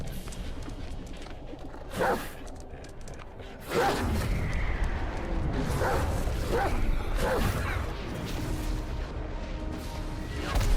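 A dog barking in the action game Black Myth: Wukong, heard as several loud yelping barks amid swooshing combat effects and a dense, steady game soundtrack.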